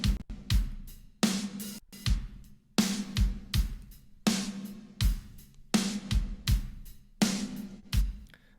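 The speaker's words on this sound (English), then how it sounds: "you just have to listen to the drums" A heavily processed Toontrack Progressive Foundry SDX drum kit plays a steady groove, with punchy kick and snare hits and washy cymbals, loud and close with no other instruments or voices.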